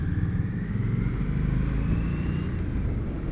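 A 2021 Indian Scout Bobber Twenty motorcycle pulls hard in first gear, its engine a steady close low rumble with a rising whine across the whole stretch, no talk over it.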